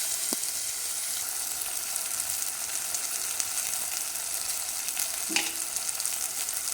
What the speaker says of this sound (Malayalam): അങ്ങനെ നല്ലതുപോലെ വഴറ്റി എല്ലാം യോജിപ്പിച്ച് നല്ല മൂത്തിട്ടുണ്ട്.